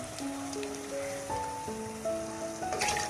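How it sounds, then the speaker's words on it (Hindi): Water pours into a pot of white chickpeas for a curry, a steady trickling and filling sound with shifting tones that continues for a few seconds at moderate loudness, without speech. "ये तो चने हैं, इसके अंदर मैं पानी शामिल कर दूंगी।"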